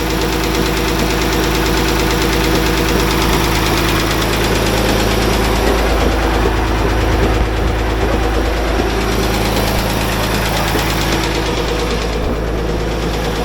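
A heavy diesel engine in a John Deere 850J dozer running without engine oil, loud and close with a constant rattling knock, rough and unchanging throughout.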